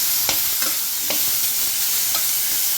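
Grapes get stirred into a dish in a hot pan, with a steady sizzle throughout and a few light spoon scrapes on top, close and fairly loud, with no talking.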